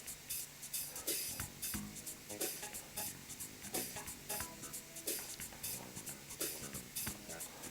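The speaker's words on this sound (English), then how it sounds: "And you'll notice I'm mixing off the bottom, bringing the product up from the bottom." Epoxy casting resin and hardener stirred in a container, scraping up from the bottom: faint, continuous scraping and swishing strokes in a quick, steady rhythm, heard alone with no talking.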